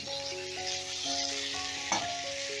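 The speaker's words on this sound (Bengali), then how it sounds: "এবার সমস্তটা বেশ মিনিট তিন চারের মতন আমি কষিয়ে নেব" Green chillies and chopped tomatoes with lentils sauté in a pan, a soft steady sizzle with a brief stirring scrape partway through, while sustained musical tones play over the top.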